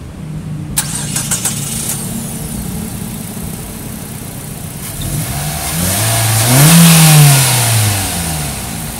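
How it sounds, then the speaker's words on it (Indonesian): Nissan Evalia MPV with a 1500cc HR15DE engine, starting with a cranking burst and settling into a loud close idle, then revving up hard and falling back down. "sekarang kita pengen lihat dulu kayak apa sih raungan mesinnya."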